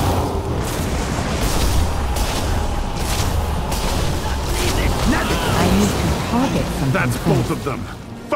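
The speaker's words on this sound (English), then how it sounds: "Fire the cannons!" Heavy booming cannon blasts and rumbling explosions over a dense wash of battle noise, with shouting voices mixed in, in the video game World of Warcraft: Pandaria Remix.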